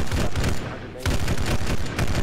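Rapid bursts of gunfire in the military shooter Arma 3, dense and loud throughout with a brief lull midway, while players talk over the shooting.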